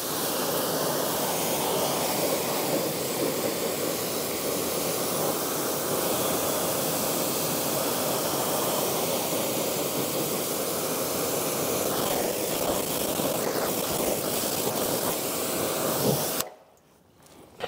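A steady, loud water spray rinses car wheels for about sixteen seconds, a continuous broadband hiss that cuts off abruptly near the end.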